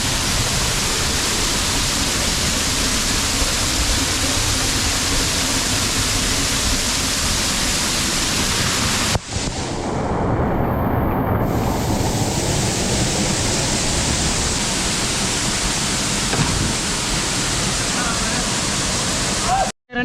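Small waterfall at Pomma Kida falls near Vaniyambadi roars in a steady, close broadband rush of falling water, unbroken throughout, with a brief shift in tone midway as the position changes and a short cut at the very end.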